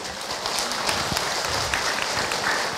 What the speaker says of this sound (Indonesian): Oke, tepuk tangan buat Ahilman Ibu